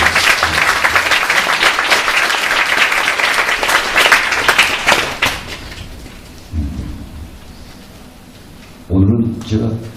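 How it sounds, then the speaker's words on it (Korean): Dense, rain-like applause from an audience at a Korean theatre award ceremony fills the room for several seconds, then dies away, leaving a low murmur and a brief spoken voice near the end. "여러분 다시 한번 축하해 박수"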